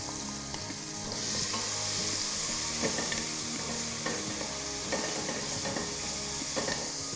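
Laksa paste frying in oil in a pan together with prawn heads gives a steady, close sizzle with occasional stirring scrapes and clinks, and no talking.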